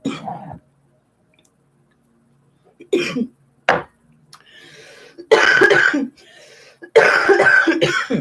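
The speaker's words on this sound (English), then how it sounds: "excuse me, for all my coughing" Several harsh coughs come in separate bursts, close and loud, with quiet pauses between them and longer rough coughing fits toward the end.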